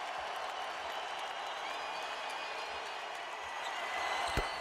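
Basketball arena crowd at a 2006 NBA game between the Toronto Raptors and Los Angeles Lakers, rising to its feet with sustained cheering and applause, a broad roar that swells near the end.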